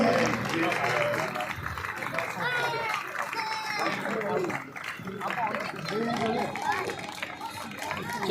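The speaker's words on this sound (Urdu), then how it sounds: "تالیاں بچتی رہنی چاہیے, تالیاں رکنی نہیں چاہیے." An audience claps at a Diwali event honoring Minister of Religious Affairs Aneeq Ahmed, the scattered applause running continuously beneath someone speaking loudly and nearby chatter.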